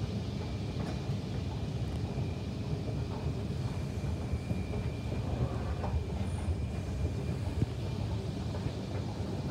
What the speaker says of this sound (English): We got a Northern Line train down below.